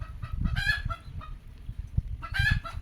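Cochin hens squawk and cluck loudly close by in two bursts, one at the start and another near the end, with a quieter, busier stretch of clucking between them.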